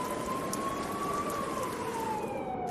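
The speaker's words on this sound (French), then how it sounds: "Vous croisez une voiture de police au moment où tu allais déposer Abby devant le salon et il enclenche la sirène" A police car siren sounds as one long, slowly sweeping wail, loud and close over steady rain-like noise.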